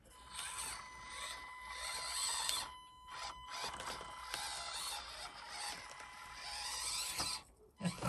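Tiny Scx24 Chevy C-10 RC crawler climbing over rocks, a steady whirring, creaking motor-and-gear drone that runs nearly continuously, with brief dips and scraping, close and fairly loud.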